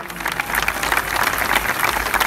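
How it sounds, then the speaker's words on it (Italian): Audience applause for a guitarist at a band concert, a steady, dense wash of clapping that holds at an even level from start to finish with no voices over it. "un grande applauso a lui"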